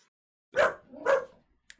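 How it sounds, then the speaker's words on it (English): A dog gives two loud, close barks about half a second apart, followed by a short faint yip, with no talking in between. "No barking."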